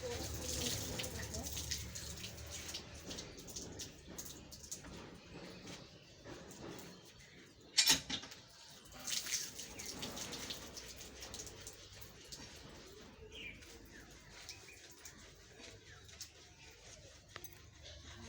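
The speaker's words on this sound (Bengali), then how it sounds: "আমি সাবান দিয়ে ধুয়ে নিচ্ছি" Hands being washed with soap under running tap water after cutting taro, a continuous splashing flow with a sharp clatter midway and a voice talking over parts of it.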